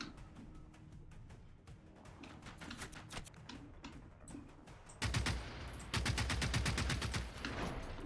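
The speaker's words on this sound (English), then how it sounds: "And I do have this assault rifle to try out." Assault rifle fired on full auto in the game Generation Zero, rapid bursts of sharp rattling shots, sporadic at first then louder sustained strings of fire in the second half.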